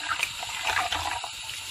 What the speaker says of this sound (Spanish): vamos a ir lavando las cáscaras de huevo que hemos ido guardando